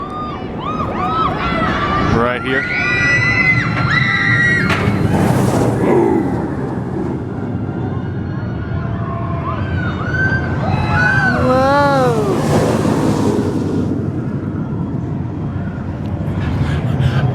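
A roller coaster train rushes past with a whoosh and splash of water on opening day at Busch Gardens Williamsburg, loud and close over a busy crowd of voices and nearby talk.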